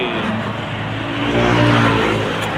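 Steady road traffic noise from vehicles passing on a nearby highway, a continuous broadband rumble that swells slightly midway, with no voices.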